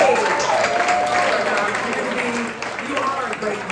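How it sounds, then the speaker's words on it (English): An audience at a live storytelling event applauds after a storyteller's set, steady broadband clapping that continues throughout, with a voice calling out and cheering over it. "Another round of applause for that girl."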